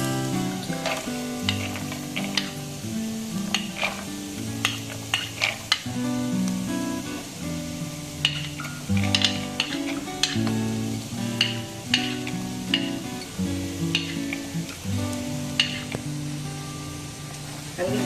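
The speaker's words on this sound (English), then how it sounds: "And we'll just cook these carrots first." Carrots cooking with translucent onions in a pan, giving a soft, continuous sizzle with occasional stirring clinks, set beneath steady background music.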